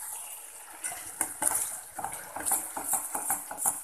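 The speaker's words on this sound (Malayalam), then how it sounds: "ഈ അരച്ച് വെച്ചിരിക്കുന്ന തക്കാളിയും ഉള്ളിയും കൂടിയുള്ള ആ ഒരു ഗ്രേവി നമുക്ക് ഈ കറിയിലേക്ക് ഇട്ട് ഇളക്കി കൊടുക്കാം" A spoon scrapes and clinks against a pot while ground tomato-onion gravy is stirred into a chickpea curry, irregular close metallic knocks and wet stirring with no talking.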